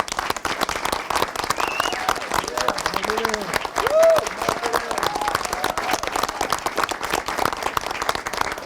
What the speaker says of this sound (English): join me in giving Margaret Ann a round of applause for everything she did for our friend